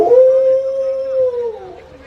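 A comedian on stage imitates a dog howling, giving one long sustained howl that holds steady and then trails off at the end.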